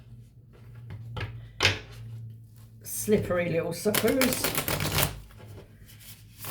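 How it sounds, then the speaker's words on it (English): Tarot cards riffle and slap in a few quick shuffling bursts, close by, with a brief spoken remark in between. "Let's just give them a good shuffle now."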